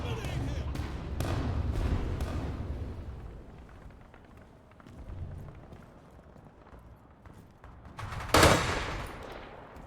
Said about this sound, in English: What are you shooting at me for?